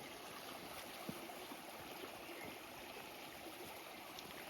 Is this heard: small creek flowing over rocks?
yes